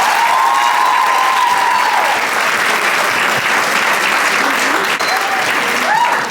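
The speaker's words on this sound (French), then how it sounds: "Est-ce qu'on peut les applaudir encore une fois?" A gala audience breaks into sustained, dense applause, loud and continuous throughout, with faint voices and crowd murmur mixed in.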